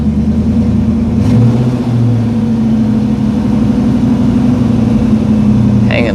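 A Ford 5.0 V8 with a fast-idle fault runs close and loud, a steady low rumble holding a raised idle speed with slight shifts in pitch, a brief mechanical tick near the start and another near the end, no voices.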